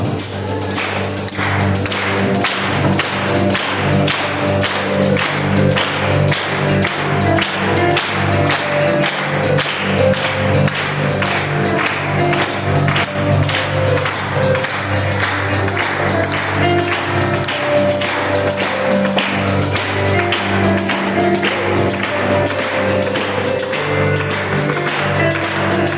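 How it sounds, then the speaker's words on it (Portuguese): A church congregation claps along to a lively old hymn at the close of a communion service, steady rhythmic claps blending into loud, continuous music and singing. "As palmas."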